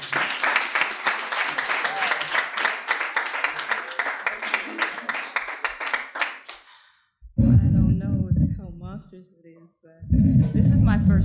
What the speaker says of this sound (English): Let's give her a great round of applause.